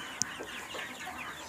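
Light Sussex hens on a farm in Pakistan cluck softly and continuously, with one sharp brief chirp near the start, close and moderately loud without speech.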